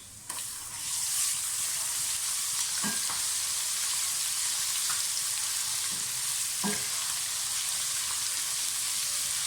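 Steady sizzling of onions and garlic-ginger paste frying in hot oil for a chicken and chickpea curry, with a few soft stirring scrapes, no voices.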